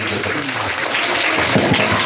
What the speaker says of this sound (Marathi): पण एकदा टाळ्या वाजवा सगळ्यांनी